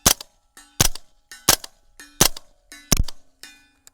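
A PSA JAKL-9 firing suppressed subsonic ammunition at an outdoor range, six sharp, evenly spaced muffled shots with metallic action clacks after each, close and loud, with no talking.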